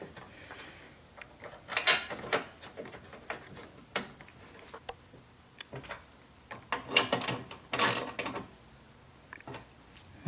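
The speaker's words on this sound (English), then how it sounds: "Now install the two 10mm bolts for the hood latch." Intermittent metallic clicks and ratcheting from tightening the two 10mm hood latch bolts on a 2002 Toyota Camry during a radiator replacement, with a few sharp louder clacks near the start and toward the end, close by and without speech.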